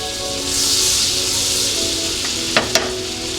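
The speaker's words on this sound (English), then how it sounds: "So we're gonna melt all the butter and wait till it turns a little bit of brown." Butter melts and sizzles in a pan for a garlic butter sauce, giving a steady, close hiss with a couple of sharp crackles near the end.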